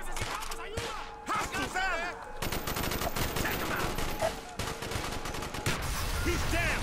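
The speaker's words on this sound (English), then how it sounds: "I don't know what I'm shooting at, but I'm just doing it." Bursts of automatic gunfire in Call of Duty: Black Ops, with dense rapid shots that stop briefly and resume, heard under excited voices and in-game shouting.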